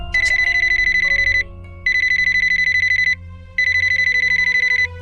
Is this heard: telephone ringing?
yes